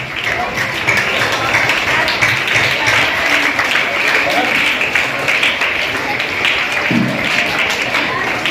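Sustained clapping from a school audience applauding prize winners at a National Mathematics Day celebration, steady and fairly loud, with talk mixed in.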